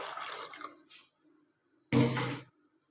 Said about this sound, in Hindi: तो अभी इसमें पानी ऐड करेंगे